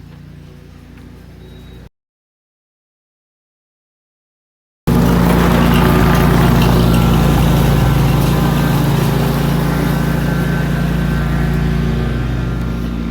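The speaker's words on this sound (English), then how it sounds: "My dad is mowing and he got really close to where I'm recording" A lawn mower runs loud and very close, its steady engine drone with a low humming rumble starting abruptly after a short silent gap and holding level to the end.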